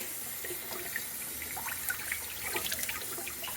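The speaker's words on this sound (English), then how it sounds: "I give the kale a good rinse" Kale rinsed under a running tap at a cluttered kitchen sink, a steady splashing hiss of water with small irregular spatters, close up and without speech.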